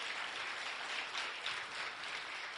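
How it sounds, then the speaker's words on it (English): Applause from a seated audience at a holiday joint board meeting, steady clapping that fills the whole stretch with no voices over it. "A round of applause for our fabulous speakers."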